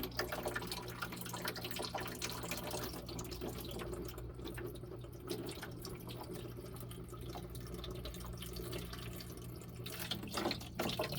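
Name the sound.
water running from valve into bucket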